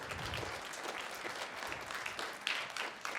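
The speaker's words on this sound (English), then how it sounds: "Round of applause for Mr. McKenney." Scattered, distant applause from a middle school winter band concert audience fills the hall at a low, even level, with a few sharper claps standing out near the end.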